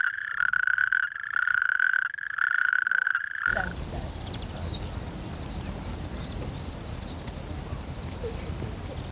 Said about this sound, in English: I'd love to be able to hear a natterjack at one point.